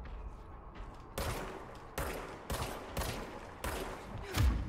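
Gunfire in the video game Control, a series of sharp, loud bursts of shots arriving in clusters every second or so over a steady background bed, with a final heavier blast near the end.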